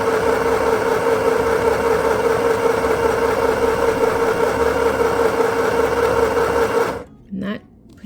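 Mini handheld sewing machine stitching fabric, a steady close motor whir with rapid needle clatter running continuously for about seven seconds, then stopping abruptly, followed by brief quiet handling sounds.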